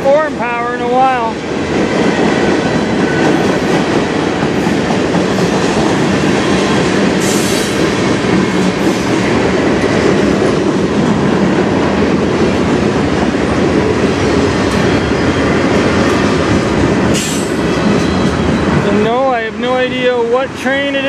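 A CN manifest freight train with CN and KCS locomotives rolls past in Sarnia, Ontario, a loud, steady roar of wheels and railcars with clickety-clack and brief squeals, sustained throughout and close by.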